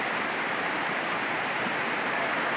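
Water pouring down Dalki falls in Godri ghat, a dense, even roar that holds constant throughout, heard up close with no other sounds standing out.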